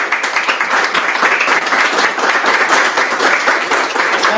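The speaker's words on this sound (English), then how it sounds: "You guys have been very polite, kindly clapping at everyone." Steady applause from a pub audience at a poetry reading, dense continuous clapping filling the room for several seconds without pause.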